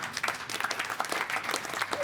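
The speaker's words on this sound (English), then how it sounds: "You can clap now." Audience at a city council meeting applauds a proclamation, a steady patter of many individual claps in a room, moderately distant and uneven, continuing throughout without talk on top.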